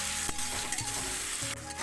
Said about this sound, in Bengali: পেঁয়াজ টমেটোটা অনেকটাই ভাজা হয়ে গেছে